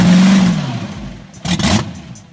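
An old drag racing car engine revs up loudly, then drops off, followed by a second sharp burst of revving near the end.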